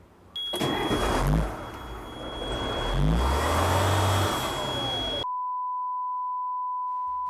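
A 6x6 truck rolls over a Rolls-Royce car: a loud engine rumble mixed with dense crunching and scraping for about five seconds, followed by a sudden cut to a steady electronic tone.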